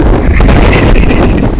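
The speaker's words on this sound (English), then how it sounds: "apart from it being a bit windy" Wind gusting steadily through woodland on a blustery day, a loud continuous rush with rumbling buffeting on the microphone throughout.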